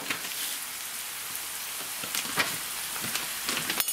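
Dried chili pepper sizzling in hot oil for chili oil, a faint steady crackle with scattered sharper pops near the end, no voices.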